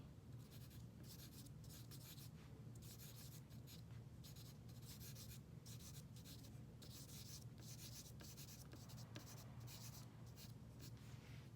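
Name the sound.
charcoal pencil cross hatching on paper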